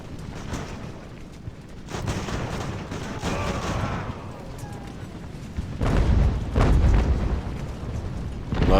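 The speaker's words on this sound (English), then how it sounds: "Love these mortars." Heavy booming mortar and cannon fire from a siege battle in the age-of-sail naming game Ultimate Admiral: Age of Sail, with repeated loud low thuds and rumbling blasts rising toward the end, and someone talking over it.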